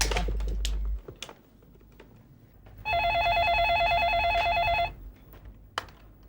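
A telephone call placed from a home during a comedy serial scene: a few soft keypad presses and clicks, then a loud, steady electronic ringing tone that trills for about two seconds before cutting off, followed by faint handling noise.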